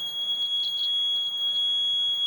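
A small electronic buzzer wired to a multimeter during a continuity test sounds a steady, high-pitched, piercing tone that holds continuously, with nothing else around it.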